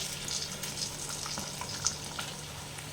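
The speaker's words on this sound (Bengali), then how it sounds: "বন্ধুরা দেখুন আমার হয়ে গেল কিন্তু ভাজা, দেখুন দু পিঠেই হয়ে গেছে" Battered pumpkin flower fritters frying in hot oil, a close, continuous crackling sizzle with small pops, and no voices.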